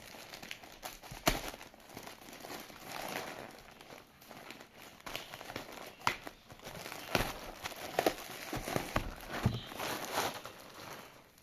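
A cargo package of books being unpacked by hand: steady close crinkling and tearing of packaging with scattered sharper crackles and rustles, no voices.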